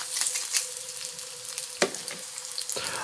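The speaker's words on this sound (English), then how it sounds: "We're going to fry these 2, maybe 3 minutes on each side or until it's golden brown." Shrimp and bacon cakes frying in a pan, a steady soft sizzle with a few clinks and scrapes of a utensil, close and moderately quiet, with no talking.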